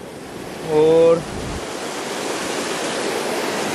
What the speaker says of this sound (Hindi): अभी पूरा वेग से यह नदी बहने लगी है।